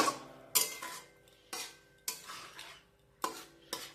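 A potato and cauliflower roast is stirred with ghee in a pan, with five or six distinct scraping, clattering strokes of a utensil against metal at an uneven pace, close and clear with quiet gaps between.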